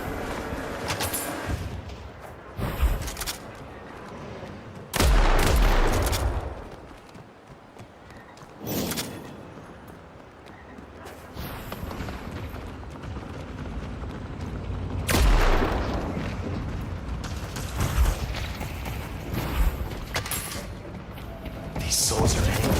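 Video game barrage of heavy gunfire and explosions, repeated loud booming blasts and crackling volleys in bursts, with dense rumbling between them and voices at times.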